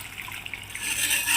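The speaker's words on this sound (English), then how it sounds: "Okay, I think I'll give some more water." Water pours in a steady, brief stream into a cooking flour mixture in a pan, a soft liquid splash that grows slightly fuller toward the end.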